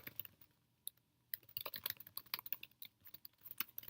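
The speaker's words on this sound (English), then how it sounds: "let's type in that Jane Doe address again" Typing an address into a shipping form on a computer keyboard, with a quiet, irregular run of close key taps that starts sparse and grows into dense bursts of clicks.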